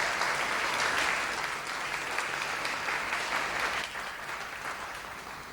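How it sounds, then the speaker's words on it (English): An audience at a class of 2020 graduation ceremony applauds steadily, a dense, loud wash of clapping that eases slightly toward the end. "One more round of applause for Debbie, Monique, and Paul."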